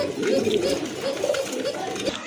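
Rajgolla pigeons cooing at close range, a soft, continuous throaty warble with a voice talking over it.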